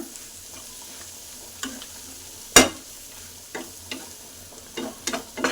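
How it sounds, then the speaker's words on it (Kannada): Fresh coriander mixed into frying onion masala: a soft continuous sizzle broken by scattered spatula taps and scrapes against the pan, one sharp knock standing out, no talking. "ಕೊತ್ತಂಬರಿ ಹಾಕಿ ಹಾಗೆ ಸ್ವಲ್ಪ ಮಿಕ್ಸ್ ಮಾಡ್ಕೊಳ್ಳೋಣ"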